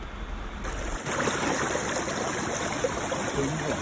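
Water pours steadily down a small waterfall into a shallow pool outdoors, a continuous close rushing wash with no break and no voices.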